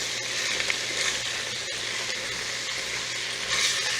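A roux of gluten-free flour sizzles in a hot pan while being stirred, producing a steady bright frying hiss with soft scraping strokes throughout and no talking.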